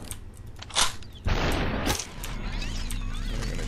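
Two sharp gunshots from the SuperHot video game, a quick crack followed by a heavier blast, with a steady rushing game ambience carrying on afterward.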